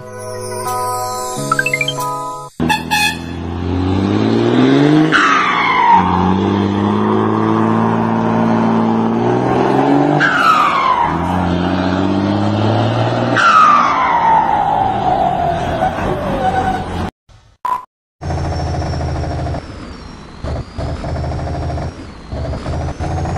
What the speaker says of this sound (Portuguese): olha esse barulho do freio motor